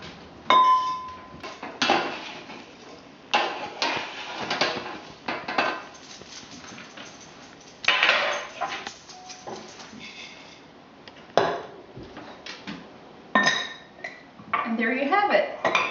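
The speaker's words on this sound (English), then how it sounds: "all that's left to do now is scoop it into an airtight container" Homemade granola with mixed-in fruit is scooped into an airtight container, giving repeated dry rattling scrapes and clinks of spoon against the container in bursts with short pauses between.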